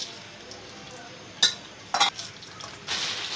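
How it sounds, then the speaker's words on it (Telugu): Cumin, urad dal, mustard seeds, dried red chillies and curry leaves fry in hot oil for a tempering, giving a steady soft sizzle with a few sharper crackling bursts that swell louder near the end. "ఇవన్నీ కూడా ఆయిల్లో బాగా వేగిపోవాలండి"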